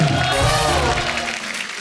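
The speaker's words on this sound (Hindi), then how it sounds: "एक बार जोरदार ताली हो जाए" Applause from a comedy-show studio audience, a steady dense clatter of clapping that fills the moment and gradually thins toward the end.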